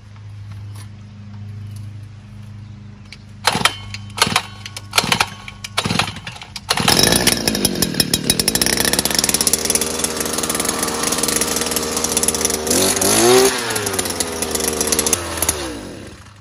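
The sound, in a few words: gas-powered earth auger engine starting and running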